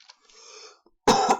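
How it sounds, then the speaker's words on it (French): A single harsh cough bursts out near the end, following a faint, quiet stretch. "Je tousse."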